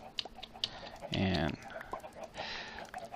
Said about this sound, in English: as you can hear the chickens in the background